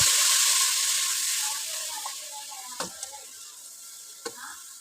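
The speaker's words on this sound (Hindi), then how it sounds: "तकरीबन 1 मिनट तक हम इसको ऐसे ही चम्मच चलाते रहेंगे।" Curd frying and being stirred with a spoon in a pan for chicken kofta, a loud steady sizzle that slowly settles, with a few scraping spoon strokes and clinks near the end.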